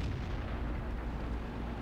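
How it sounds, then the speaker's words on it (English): Dull booming impact of a tank taking fire from behind in World of Tanks, a low rumbling thud sustained over the short moment with no talk. "what's shooting us from behind?"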